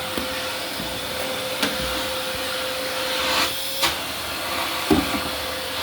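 A vacuum cleaner runs while cleaning dust in a kitchen, with a steady, loud whooshing hiss and a faint whine, with a few small bumps and clicks along the way.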